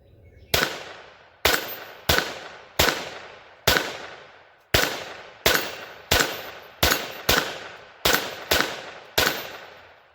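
Gunshots from a Kel-Tec CP33 pistol fired during reliability testing: about fourteen sharp, loud reports with ringing tails, spaced irregularly, sometimes in quick pairs, with no talking.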